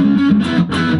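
Electric guitar played through a Masatone Hard Rock Machine distortion pedal with light reverb, giving a loud, sustained, heavily overdriven tone with chord changes and no talking.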